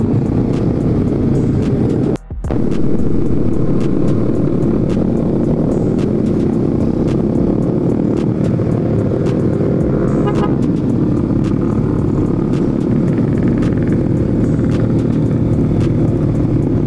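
Dense road traffic of many motorcycles roars steadily throughout in Makassar, a thick wash of engines with occasional horn toots and passing motorbike revs, loud and close.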